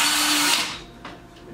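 A power drill tightening screws on a metal bathroom storage rack whirs steadily for about half a second, then cuts off, leaving faint clicks and a brief scrape.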